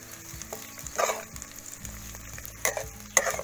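Onion and green chilies fry in a pan with a soft, steady sizzle, punctuated by a few louder clinks and scrapes of stirring near the end.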